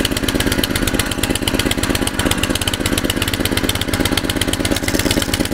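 Small engine on a converted Soviet homemade vehicle pulling away in low first gear at a country dacha, a loud, close, rapid chugging putter with steady rhythmic firing pulses throughout.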